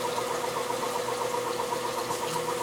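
A Semitool 270-F spin rinse dryer runs a low 500 RPM rinse, giving a steady, continuous mechanical hum with a pulsing whine at an even rhythm, close and alone with no talk.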